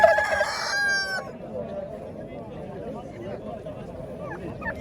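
A rooster crows once, loud and close, at a busy poultry market in Qoraqamich, Tashkent; the crow fades into a steady murmur of market voices and background bustle.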